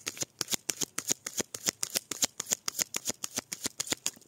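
Tarot cards being handled as the deck is cut: a steady rhythmic series of about twenty crisp card slaps and flicks, close and clear, with no talking.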